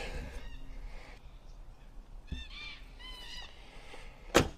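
Harsh calls of crows repeat at a distance outdoors in Australia over a steady background hum, with a sharper knock near the end.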